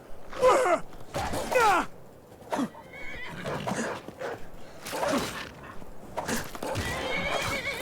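Several loud horse neighs and whinnies in bursts in the video game Skyrim, close by, with brief snorting gaps between them, as the horse fights.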